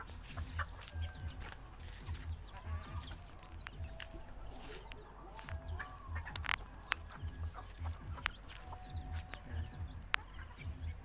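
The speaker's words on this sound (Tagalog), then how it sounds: "Ito yung kanilang mga manok." Chickens being fed cluck intermittently close by, soft scattered calls over a steady low background hum outdoors.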